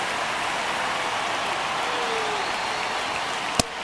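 A steady roar of crowd noise fills a virtual ballpark in MLB The Show 25 as Atlanta plays at the LA Dodgers in a tense one-run ninth inning, with one sharp click near the end.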